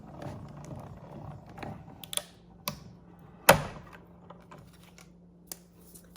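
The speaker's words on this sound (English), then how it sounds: "Place it over the sandwich, and I'm gonna feed it through the die cutting machine." A cardstock sandwich with an embossing deck feeding through a die cutting machine: faint clicks and mechanical ticks, one sharp snap midway, then a low steady hum and a few quiet taps, close and with no talk.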